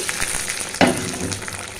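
Tempering poured into papaya lentil dal gives a sudden loud sizzle about midway, then settles into a softer steady frying hiss with no voices.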